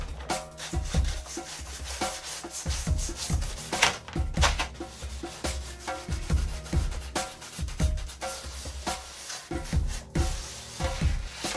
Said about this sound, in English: So what we're going to go ahead and do is sand this up just a little bit.